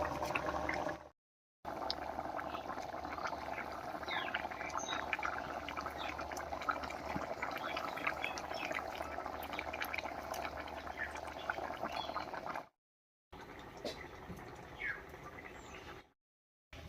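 Katla fish curry with taro simmers in a pot, giving a soft, continuous bubbling and gurgling at low volume, broken by a few short gaps of silence.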